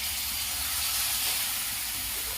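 Masala with turmeric and a splash of water sizzling in a pan for chicken curry, a steady close hiss of frying with no talk.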